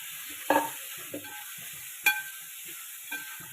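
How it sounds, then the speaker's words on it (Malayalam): A cooked meat mixture for Kottayam-style kappa biriyani is stirred in a pan, with a few distinct scraping strokes at irregular intervals over a soft, steady background hiss. "ഇനി വേവിച്ച് വെച്ചിരിക്കുന്ന ഈ ഇറച്ചിക്കൂട്ട് അതിലേക്ക് ചേർത്ത് കൊടുക്കാം. എന്നിട്ട് നന്നായിട്ടൊന്ന് ഇളക്കി യോജിപ്പിക്കാം."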